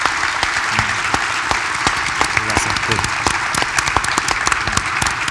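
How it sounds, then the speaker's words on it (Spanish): Strong, steady applause from an audience for a panel at a university business faculty event, dense clapping throughout, with a brief spoken word of thanks. "quiero pedir un fuerte aplauso por este panel"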